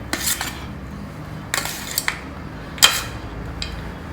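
A spoon mixing lemon rice in a metal vessel, a few separate clinks and scraping bursts spaced by quiet gaps, close and fairly soft, no speech.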